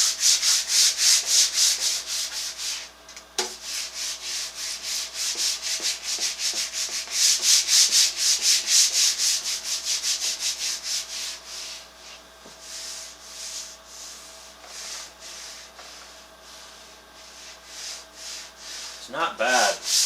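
Fine 2000-grit wet/dry sandpaper works over the shellacked top of a Victorian end table with a thin plywood veneer. Close, rhythmic back-and-forth rubbing strokes repeat steadily, with a few brief knocks and pauses in between.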